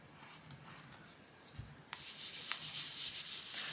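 A sponge rubbing colour onto a paper colouring page, a faint soft scratchy brushing that grows slightly louder and steadier partway through, close and quiet with no talking.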